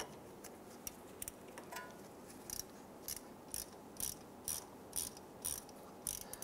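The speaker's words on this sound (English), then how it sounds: "install your bolt in the top. And let's go ahead and snug that down." A ratchet tightens the ABS speed sensor bolt on a 2005-2010 Chrysler 300, quiet clicking pawl strokes in short bursts that grow more regular and closer, with faint background hum.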